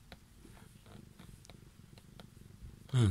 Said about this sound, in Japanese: うん、ゴロゴロゴロゴロ言ってる